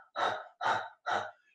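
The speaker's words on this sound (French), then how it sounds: "une respiration qu'on appelle du chien ou du feu, par la bouche" Three rapid, forceful breaths pushed out through an open mouth in a yoga breathing exercise, each a loud breathy burst with short gaps between, close and alone with no talking.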